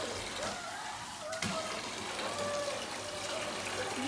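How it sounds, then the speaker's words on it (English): An Aussiedoodle puppy rinsed under running water, a steady close splashing flow with a brief louder gush near the middle, and faint voices in the background. "Snickers is getting rinsed off now, right?"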